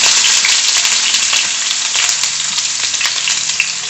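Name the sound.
chopped small white onions added to hot oil, frying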